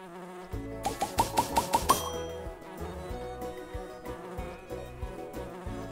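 A cartoon bumblebee buzzes in the Nature Cat pollinator game, a continuous whirring drone under a quick run of six bright chiming notes, then game music with bouncy tones carries on beneath the steady buzz.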